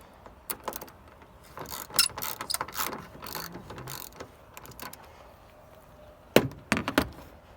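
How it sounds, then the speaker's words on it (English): Hand ratchet loosening the screws holding a car's turn signal bulb, irregular bursts of quick clicking in several close runs with pauses between, a final cluster near the end. "I'm going to use the ratchet for one side."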